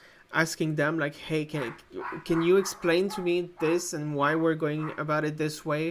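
Dogs whimper and let out short barks in the background of a home setting, partly masked by someone talking steadily over them.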